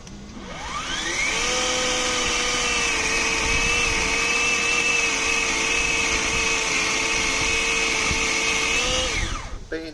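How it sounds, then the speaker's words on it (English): A battery-powered chainsaw spins up and cuts wood beside a narrowboat, a steady high electric whine held for about eight seconds before winding down, close and alone. "so I invested in this battery powered chainsaw"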